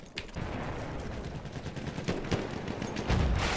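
Enemy machine gun fire in the video game Battlefield 1, heard as a loud, continuous rattle of rapid gunshots with a heavier boom near the end, dense and close throughout, with no voices.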